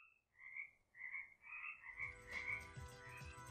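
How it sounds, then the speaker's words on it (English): Minecraft frogs croak in a series of short, tonal chirps, about six in a row, soft and close, with a low game ambience rising in the background toward the end. "Number 7 is the Minecraft Frogs"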